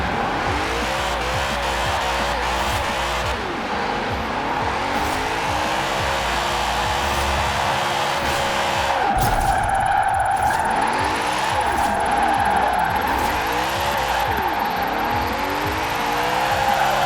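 A 2002 BMW M3 GTR drifts in Forza Horizon 4, its engine revving up and down in repeated swells while the tires squeal through the slides, loud and continuous with no talk.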